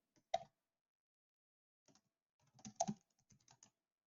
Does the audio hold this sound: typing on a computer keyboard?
yes